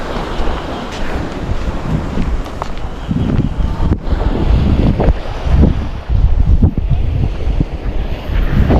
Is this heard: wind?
yes